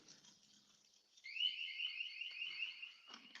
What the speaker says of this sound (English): One of my perimeter alarms are going off.